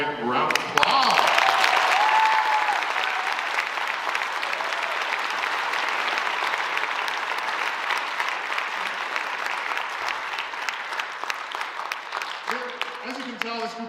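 Sustained audience applause at a high school band concert, a dense wash of clapping lasting over ten seconds with a brief voice at the start and talk returning at the end.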